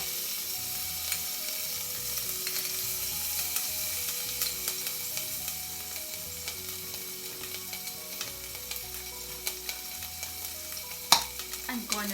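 Minced garlic and ginger sizzle steadily in a pot of hot oil for a Thai coconut soup, a continuous frying hiss with light scraping and stirring clicks and one sharper knock near the end, no talk.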